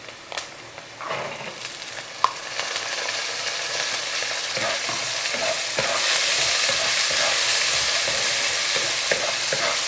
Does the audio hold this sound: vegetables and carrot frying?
yes